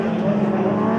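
Formula Vee race cars howl past in close battle on a circuit during a race, giving a loud, continuous engine drone with a commentator's voice faintly underneath.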